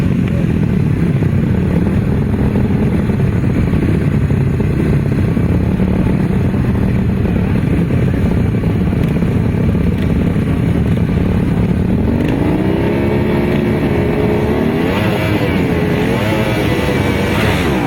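Grasstrack racing motorcycles leave the start together at a 2018 grasstrack meeting, a loud, continuous roar of several engines that revs and rises in pitch toward the end as the pack pulls away, with no talking.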